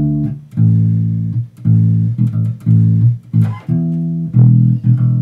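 A melody transposed up to E, carried as a sung or played melodic line in repeated phrases with short breaks between them, loud and close.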